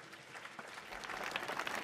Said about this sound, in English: Please give a round of applause for Dean Torrey.